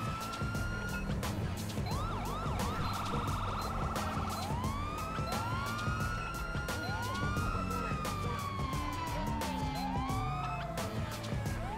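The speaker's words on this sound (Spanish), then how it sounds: "ya traía muchas sirenas esta patrulla" Several police sirens in GTA 5 wail and sweep over each other continuously, loud and close, overlapping in rising and falling tones against a rumbling engine-like background from an unmarked Dodge patrol car.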